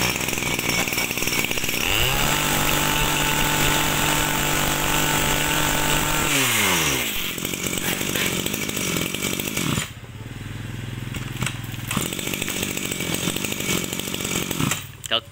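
A Maruyama 32cc brush cutter engine runs at a loud, steady high-pitched whine, revs up sharply, then drops and idles roughly before a final rev, recorded close.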